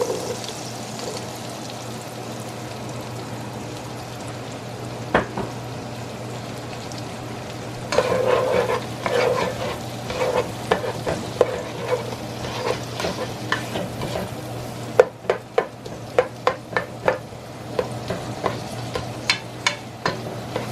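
Onions and peppers sautéing in oil and butter in a pot, a constant close sizzle that intensifies midway, with repeated sharp spoon clacks and scrapes against the pot toward the end, no voices.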